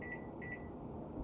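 A kitchen timer is set for two minutes and gives short repeated electronic beeps at a steady tone over a constant background hum, in a home crystal-growing lab setup.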